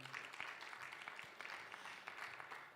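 A church congregation claps during a sermon, a faint, distant patter of applause lasting a few seconds.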